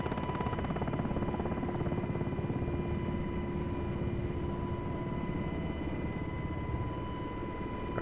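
Steady rotor and turbine drone of a UH-60L Black Hawk lifting off to gain altitude in the DCS World flight simulator, with a constant loud whine and hum holding throughout and no voices.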